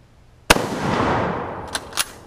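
An Oviedo .308 Mauser bolt-action rifle fires one loud, sharp shot with a long, decaying echo, followed by two faint metallic clicks as the bolt is worked.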